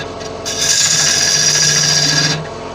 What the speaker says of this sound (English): now we just start hollowing this out